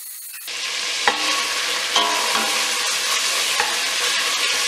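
Spiced masala with round-sliced green chilies sizzles steadily in a pan for an Eid dawat dish, a dense continuous fry with a few sharp clinks of a spoon stirring through it, close and fairly loud, no voices.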